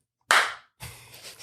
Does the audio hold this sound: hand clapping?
yes